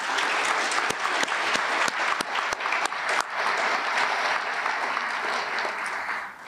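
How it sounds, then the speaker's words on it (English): Audience applause at a National Junior Honor Society induction ceremony, a steady wash of many hands clapping at moderate distance with a few sharper individual claps, sustained throughout and fading slightly at the end. "Let's give them a round of applause."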